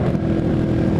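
A motorcycle engine labors steadily while climbing a wet, winding mountain road in light drizzle, a dense continuous drone close by with no break.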